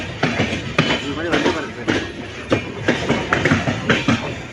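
A train pulls into Erode Junction with a steady loud rumble and rhythmic clatter of wheels over rail joints, close by, with a voice talking over it.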